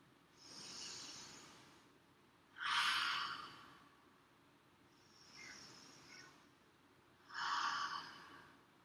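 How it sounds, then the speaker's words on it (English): Slow, deep breaths from a children's yoga session, four soft airy inhales and exhales in a steady rhythm against a quiet room with no talking. "breathe in and open, breathe out and close. Let's take a few breaths together."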